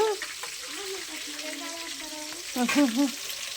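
Green chillies frying in a pan give a steady close sizzle, with a woman and another person talking over it throughout.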